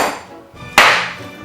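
The butt of a knife strikes a raw chicken bone to break it while deboning, a single sharp metallic crack that rings briefly, preceded by a softer handling sound.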